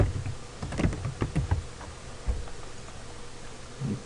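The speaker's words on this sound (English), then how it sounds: "So I'm going to type this again." Clicky keystrokes tap on a computer keyboard in quick irregular bursts, close and moderately loud, with short pauses between clusters.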